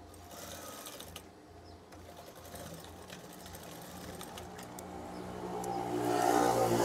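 A sewing machine stitching folded fabric runs in a continuous close whirring drone that gradually speeds up and grows louder toward the end, with no talking over it.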